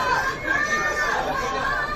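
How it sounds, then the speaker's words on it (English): A crowd at a women's over-40 hockey final, Singapore against Hong Kong at the Asia Cup, keeps up a steady hum of chatter and excited murmuring, with no distinct cheers standing out. "Crowd are getting excited here."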